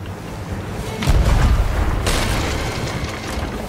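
Cannon fire from a pirate ship in a video game: one deep booming blast with a rumbling tail, followed by a second sharper report and a lingering roar, loud and alone.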